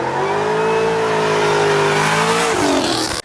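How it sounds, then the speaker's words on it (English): Straight-piped turbocharged Pontiac GTO with long tube headers and X-pipe exhaust revving hard and loud, a steady rising engine drone held for about three seconds before cutting off abruptly. "The car is loud"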